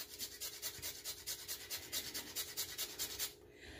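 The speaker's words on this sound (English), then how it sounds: "I'm just going to grate some nutmeg right onto" Fresh whole nutmeg grated on a microplane over butternut squash, a quiet, close rhythmic rasping with quick back-and-forth strokes that stops near the end.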